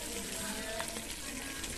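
Water is poured into a cooking pot of simmering chicken trotters, a soft continuous splashing gush heard fairly faintly over kitchen background noise.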